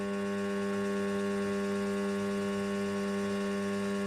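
A Warco WM180 lathe runs forward under power, giving a steady, even motor hum with a constant tonal whine and no change in speed, heard alone at moderate level.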